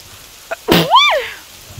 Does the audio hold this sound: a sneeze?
yes